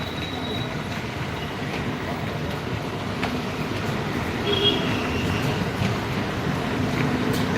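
Railway station at Ghatkopar with trains: a steady, loud rumble of rolling stock and crowd noise fills the air, with faint wheel squeals briefly cutting through.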